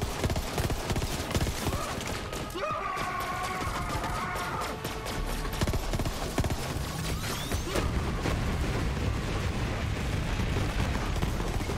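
Grenades explode in the video game Borderlands 3, with loud continuous blasts and crackling gunfire filling the whole stretch.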